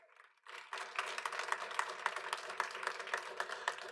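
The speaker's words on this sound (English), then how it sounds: "Round of applause for them." After a brief quiet moment, a room at a school board meeting breaks into applause for two coordinators, steady clapping from a modest crowd over a faint low hum.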